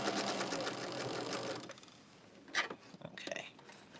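A sewing machine runs steadily while stitching a quilt's sashing border, a fast mechanical whir for about two seconds, then stops, followed by scattered clicks and handling noises close by.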